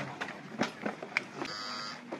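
A small rechargeable T9 hair trimmer switched on in a wholesale market shop, a few clicks and knocks followed by a steady, thin electric buzz that holds for about half a second near the microphone.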